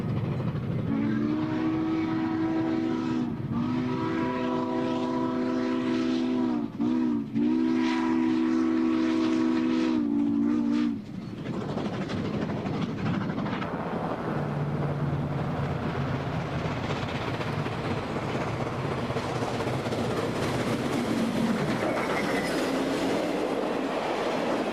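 A horn on the Southern Pacific 4449 Daylight train blares in several long blasts as it departs Oakland, Oregon, in 1991, then the steady rumble and clatter of rail cars rolling past fills the air.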